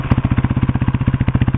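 A 1990 Suzuki DR250S dual-sport motorcycle on its stock exhaust idles close by, a steady, even thumping pulse with a light mechanical clatter and no other sound.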